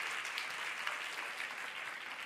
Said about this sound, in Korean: 사랑의 박수로 한번.